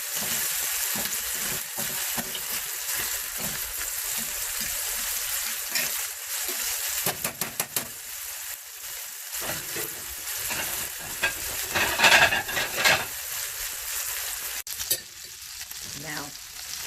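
Onions frying in a couple tablespoons of butter in a hot iron skillet give a steady close sizzle, with scraping spoon stirs and brief louder crackling bursts rising over the frying.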